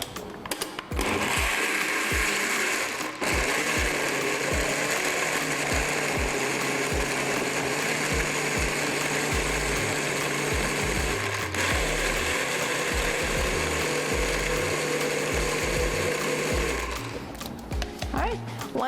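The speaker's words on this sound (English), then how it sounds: "Once the ingredients kind of goes down to the bottom and it's all blended" A kitchen blender whirs loudly and continuously, blending green seasoning ingredients for Caribbean cooking, with a steady motor drone and shifting pitch as the contents churn, starting and stopping abruptly at either end.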